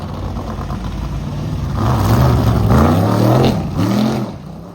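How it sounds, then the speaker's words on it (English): A Chevy Monza race car at a motorsport festival roars past nearby, its engine rising and falling through loud revving pulls with a gruff, throbbing tone before fading. "What you just saw was an absolutely beautiful Chevy Monza"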